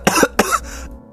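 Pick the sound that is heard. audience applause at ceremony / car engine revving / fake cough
fake cough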